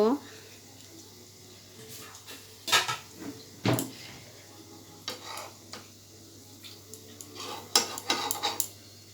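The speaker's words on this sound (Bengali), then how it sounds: "একটা ঢাকনা দিয়ে ঢেকে দিচ্ছি। ঢাকনাটা উঠিয়ে নেব।" A metal pan lid set down and lifted again over a cooking pan while mung dal patishapta is made, with sharp clanks and knocks at irregular moments over a faint background and light kitchen clatter.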